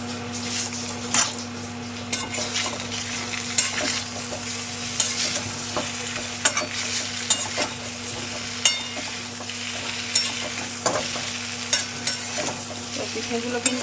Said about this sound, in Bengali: পিঠেগুলো কিন্তু খুব বেশি ভাজলে হবে না, বেশি ভাজলে আবার শক্ত হয়ে যাবে